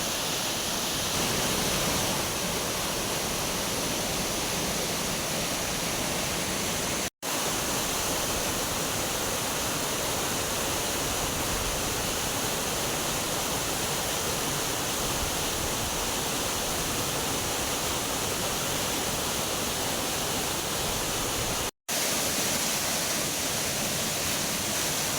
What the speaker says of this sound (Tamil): மேற்கு தொடர்ச்சி மலைப்பகுதியில் பெய்து வரும் தொடர் கனமழையால் வால்பாறை அடுத்த கவி அருவியில் தண்ணீர் ஆர்ப்பரித்து கொட்டுகிறது